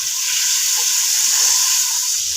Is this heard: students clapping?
no